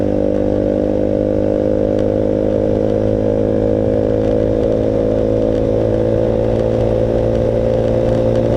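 A Voge 300 Rally motorcycle with a fault runs on a highway at night, its engine a loud, steady, high-revving drone that holds without pause throughout.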